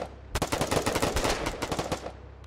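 Rapid automatic gunfire in a first-person shooter video game, a fast, loud, close burst of evenly spaced shots lasting about two seconds, alone without talk.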